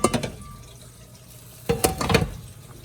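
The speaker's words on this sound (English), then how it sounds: "you can then pour your beef stew water" Beef stew liquid is poured into a pot of cooking rice for Congolese Bulaya rice, giving a short splash at the start, a quiet pause, then a louder burst of pouring and gurgling liquid close by.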